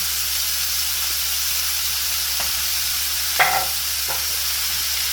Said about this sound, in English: I'm just gonna stir fry this a little